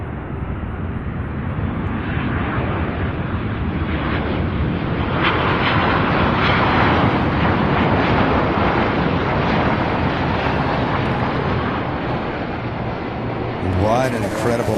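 A jet airliner, a Boeing 767 at Louisville International Airport, rumbling loudly and continuously as it lands, broadband roar with wind buffeting the microphone and a rising whine near the end.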